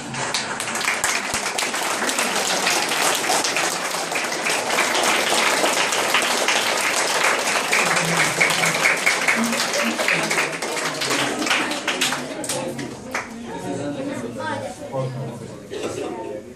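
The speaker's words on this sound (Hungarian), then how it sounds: "Tapsoljuk meg egyébként." Audience applause at a Hungarian elementary school event, a dense sustained clapping from a large crowd that fills the space, thinning slightly toward the end with some chatter underneath.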